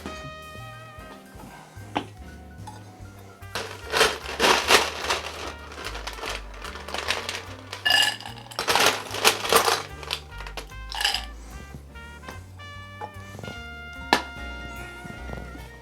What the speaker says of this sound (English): I'm gonna double strain this just to keep the seeds, again, out of the cocktail. I'm gonna put this over some fresh ice.